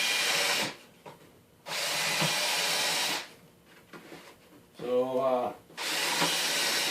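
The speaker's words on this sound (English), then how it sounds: "I'm using a countersink bit" Power drill pre-drilling plywood with a countersink bit during a bay window install: loud whirring bursts, each lasting about a second, separated by pauses, with a brief spoken word between runs.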